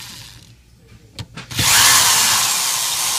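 A power tool removes the base plate fasteners from a sealed DDP550 pump, with a few quiet clicks and taps before the tool whirs up loud and steady at close range.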